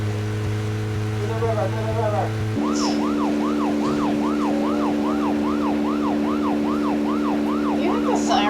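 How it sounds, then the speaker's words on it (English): Vehicle siren in the video game Deadly Premonition, a steady electronic tone shifting into a rapid repeating wail that pulses evenly for several seconds, loud and continuous. "Do you think the siren on really makes it go faster?"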